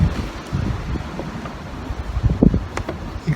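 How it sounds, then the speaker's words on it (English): Wind blowing outdoors, a steady low rumbling gust with buffeting on the microphone and some rustling, moderately loud throughout, with no talking. "The wind's still blowing."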